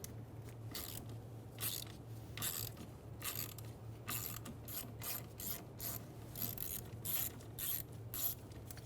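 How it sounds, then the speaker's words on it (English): An 8mm socket on a ratchet turns out the bolt holding a camshaft position sensor on a 2000s Ford Focus, close and alone: a steady run of quick clicking bursts with a low hum underneath. "Using an 8mm socket, we're going to remove the bolt."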